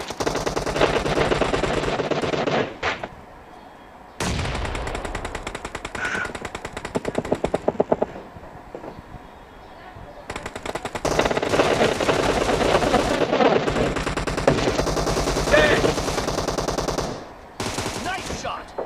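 Automatic weapon fire in a PUBG team deathmatch, long loud bursts of rapid shots with short gaps between them, dense and close, with occasional faint voices underneath.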